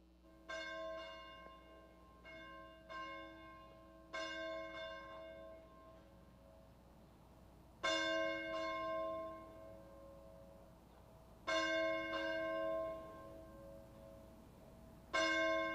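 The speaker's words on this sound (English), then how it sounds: "Let's ring the bell." A church bell tolls slowly in a congregation setting, with resonant strikes spaced a few seconds apart, each ringing out and fading before the next, some louder than others, with no talking.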